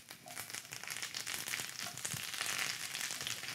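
Squash shoots sizzle steadily in a hot pan beside a squash gratin and rack of lamb, a dense continuous frying hiss with small crackles and a faint toss, loud and close with no talk.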